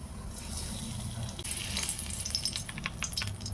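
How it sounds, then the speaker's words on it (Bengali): Whole garam masala sizzles and crackles in hot oil in a kadai, a steady close frying hiss with a low rumble beneath and bright spitting pops scattered through the second half. "কড়াইতে দিয়ে দিলাম গোটা গরম মশলা"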